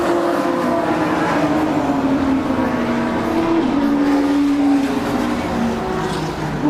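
Classic touring race cars, pre-1993 and pre-2003 machines, pound down a straight at Brands Hatch, with loud, continuous engine roar and rising and falling pitch as several cars pass in close succession.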